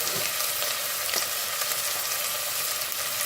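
Steady, dense sizzle of food sautéing in a hot pan, close and loud, holding evenly throughout without any voices.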